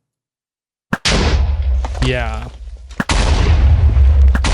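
Repeated explosions from an explosive bow in modded Minecraft (Enigmatica 2 Expert) hitting Endermen: loud, dense booming bursts that fill most of the clip, with a brief spoken word and a short gap between them.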